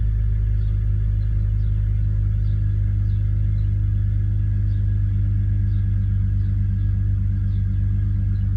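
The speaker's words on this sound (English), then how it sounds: "I'm not going to rev it yet, I'm just going to let it run a little bit." A BMW E46 330Ci Clubsport idles steadily right after an oil and filter change, a loud, even low rumble with a faint ticking rhythm and no revving, close to the engine.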